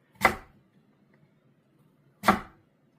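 Two sharp, separate chops of a knife cutting through chicken for curry on a board, about two seconds apart, close and crisp with quiet in between.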